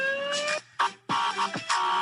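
A soundboard plays a police siren remix: short, choppy electronic siren tones start and stop in a rhythmic pattern, fairly quiet, with brief silent gaps between bursts.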